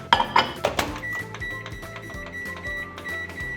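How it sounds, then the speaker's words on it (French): A microwave oven heating oat flakes with dark chocolate: a few beeps and a door clunk, then a steady low electrical hum with a faint high tone, close and alone. "tu mets ça 4 minutes au micro-ondes"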